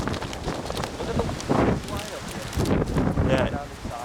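Gusty wind during a wind storm buffets the microphone in a constant rough rumble that swells and eases, with a person talking intermittently under the noise.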